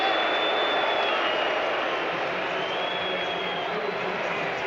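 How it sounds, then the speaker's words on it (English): A cricket crowd at a South Africa versus England Test cheers and applauds as the England batsmen go off for bad light, a loud, sustained roar of massed voices and clapping that fills the whole stretch. "Oh, listen to this crowd."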